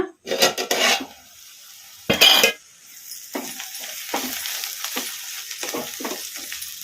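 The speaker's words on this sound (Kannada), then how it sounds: "ಚೌಳಿಕಾಯಿ ಚೆನ್ನಾಗಿ ಫ್ರೈ ಆಗಿದ್ದಾವೆ" Cluster beans (chalikai) frying in a pan, with loud sizzling bursts and clattering spoon stirring at the start, then a softer steady sizzle broken by small scraping clicks.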